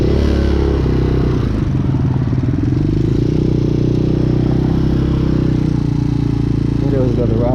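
A motorcycle engine idles steadily and loudly up close, a rough low rumble that continues without pause as the choke is pushed fully off; wind noise runs underneath.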